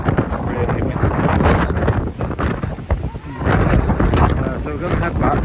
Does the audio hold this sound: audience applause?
no